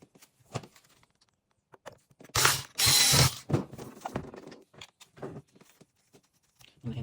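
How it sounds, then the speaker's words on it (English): Phillips screws being driven into a Dyson V10 cordless vacuum battery, giving clicky ratcheting and scraping bursts, loudest in two dense stretches midway, with softer taps and handling noises around them, close up and no talking. "make sure you press this battery, hold it pressed in, while we put the screws in"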